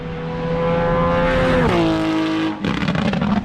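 Fully modified Porsche 992 GT3 screaming past on a race track, a loud high-pitched engine note that drops in pitch as it passes, then rough rumble and tire noise as it pulls away.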